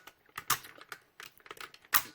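Sharp clicks from the ratcheting elbow and shoulder joints of an Energon Megatron action figure being posed, a handful of crisp, irregularly spaced snaps up close, with no voices.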